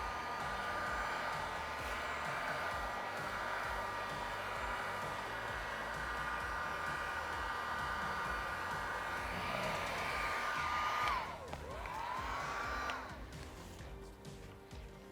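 Heat gun warming vinyl wrap on a Cybertruck A-pillar, a steady fan whine and airflow hiss running throughout, fairly faint, with the pitch dipping and wavering briefly near the end.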